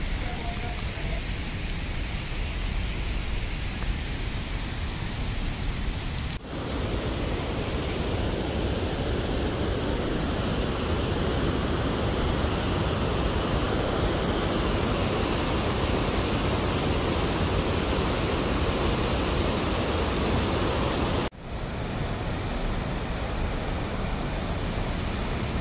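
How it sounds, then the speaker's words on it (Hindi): A waterfall in Yorkshire rushes in a steady, loud, broadband roar that fills the whole stretch without pause. Two brief dips in the noise break it, and no clear voices are heard. "हम आ गए हैं वाटरफॉल के पास और हल्की हल्की साउंड आ रही है पानी की"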